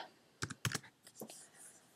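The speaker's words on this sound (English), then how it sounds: "And then you start typing your tasks." Keys clatter on a computer keyboard as tasks are typed into Asana, heard as a few quick clustered clicks followed by scattered softer taps, close and alone.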